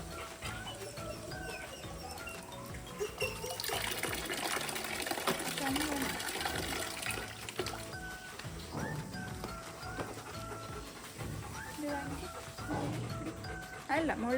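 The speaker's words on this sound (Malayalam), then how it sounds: "ഇതിലിങ്ങനെ വെള്ളം നിറച്ച്" Water running into a dog shampoo container, a steady gushing fill close by that swells for a few seconds and then continues under a person talking.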